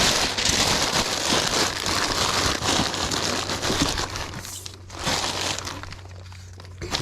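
Packing paper is crumpled by hand as void fill for a shipping box, a loud close crinkling and crackling that runs in bursts with brief pauses and a low hum beneath.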